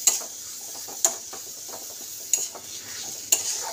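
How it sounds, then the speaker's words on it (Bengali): Tomatoes stir-fried in a pan for a Bengali fish curry of lote (Bombay duck), a continuous sizzle broken by four sharp spatula scrapes and clinks against the pan, close and fairly loud. "এটা ভালো করে যতক্ষণ টমেটোটা না গলে যাচ্ছে ততক্ষণ কষতে হবে এটা।"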